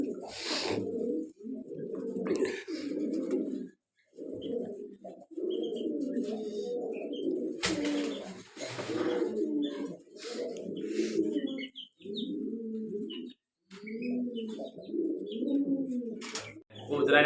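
Pigeons in a breeding cage give steady, repeated throaty coos in close, continuous bursts with short pauses, plus occasional higher chirps and clatter.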